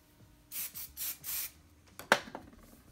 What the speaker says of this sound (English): I'm just gonna spray